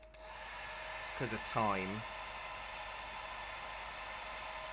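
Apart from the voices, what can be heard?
hairdryer drying acrylic paint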